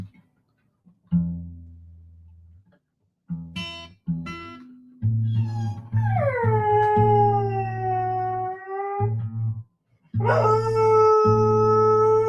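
A dog howls near a string instrument being tuned: plucked low notes ring and decay between pauses, then long wavering howls rise and fall over sustained tones, loud and close.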